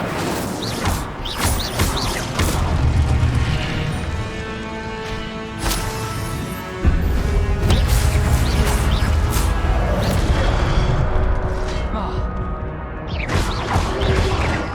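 Spell-casting effects from the Hogwarts Legacy video game, including the Incendio fire spell, come as a dense, continuous run of whooshes, crackles and impacts at steady loudness, with a sharp burst partway through.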